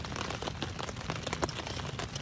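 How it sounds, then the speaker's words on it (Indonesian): Light drizzle at a campsite patters in fine, scattered drops on nearby surfaces, a soft, steady crackle of rain with no talking. "Hujan rintik-rintik gak jadi api unggunan."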